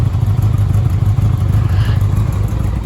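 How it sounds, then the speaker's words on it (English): A Honda Gold Wing motorcycle engine idles steadily up close with the choke off, a low, even putter and a little mechanical clatter and no change in pace. "We're idling at a pretty good, reasonable idle for this machine."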